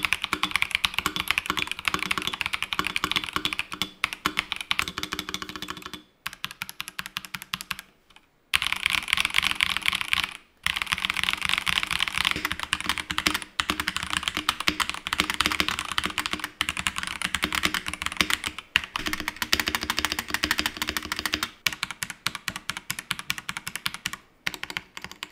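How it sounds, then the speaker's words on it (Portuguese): Typing test on Aku TCC Flame Red mechanical keyboard switches: a dense, continuous clatter of close keystrokes running steadily for about 25 seconds, broken by a few brief pauses, with no talking. "esse aqui são switches da Aku TCC Flame Red"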